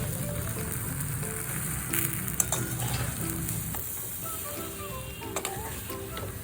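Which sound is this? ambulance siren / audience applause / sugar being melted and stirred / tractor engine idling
sugar being melted and stirred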